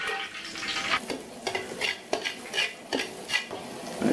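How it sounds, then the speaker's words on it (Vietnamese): Garlic frying in cooking oil in a pan for a Thai-style duck sauce, with broadband sizzle and a series of sharp stirring scrapes of a utensil against the pan, fairly close, no talking. "Mình sẽ cho một chút dầu ăn vào đây, phi thơm tỏi lên."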